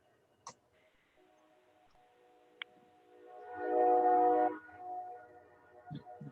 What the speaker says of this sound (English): You get to hear the train too.